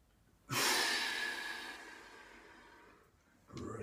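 A forceful chi kung breath during a Pilates session: one long, loud, close exhale that slowly fades, followed by the start of a fresh breath.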